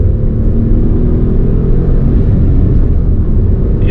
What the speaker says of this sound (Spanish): aquí en la parte alta del cuenta revoluciones ya sí que notamos que tenemos un sonido típico de motor tricilíndrico